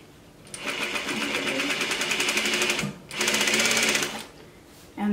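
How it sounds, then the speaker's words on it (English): Sewing machine fitted with a rolled hem foot stitching a small-stitch curved rolled hem in fabric, two close, rapid whirring bursts of even stitching separated by a short pause. "I'm going to try the next fabric just to be a glutton. Now I want it to curve, and it's curling nicely. I made a smaller stitch."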